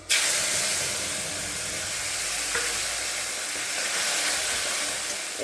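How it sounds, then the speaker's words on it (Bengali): Ground spice paste mixed with salt, turmeric and a little sugar hits hot oil for a taro curry, bursting into a loud, steady, close sizzle that hisses throughout. "নিয়ে আমি ওই তেলে দিয়ে দেবো।"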